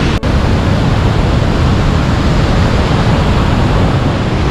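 Niagara Falls seen from the US side roars as a dense, steady wall of rushing water, loud and constant throughout with no pauses.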